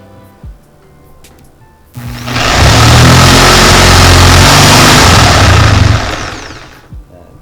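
A fake Bosch jigsaw bursts into loud, steady motor whine and blade rattle for about four seconds, then winds down and stops, with quieter handling noise before and after.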